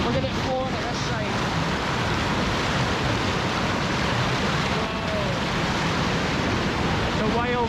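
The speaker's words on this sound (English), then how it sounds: "Wild waterfall." Wild waterfall in a rocky Scottish landscape, a steady dense roar of rushing water filling the whole clip, close and loud with wind buffeting the microphone.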